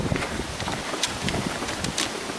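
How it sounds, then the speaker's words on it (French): Steady wind gusting and rushing across the microphone, a broad, noisy roar with brief louder puffs, no voices. "il y a quand même pas mal de vent."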